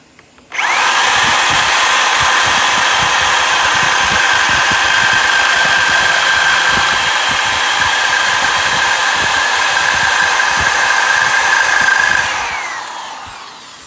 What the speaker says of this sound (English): As you can see, both sides have been drilled now.